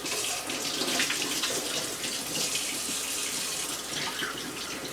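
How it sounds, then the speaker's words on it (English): Cold tap water runs steadily into a sink while deer meat is rinsed to wash off hair and bits of grass, a continuous close hiss and splash with no talking. "I'm going to go ahead and rinse this off to try to get as much of this hair off as I can"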